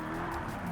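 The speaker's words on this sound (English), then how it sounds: "Hold that drift." A race car drifts in Project Cars 3 with assists off, its tires skidding in a steady squeal over a constant engine drone. The sound holds at an even level throughout, with no voices.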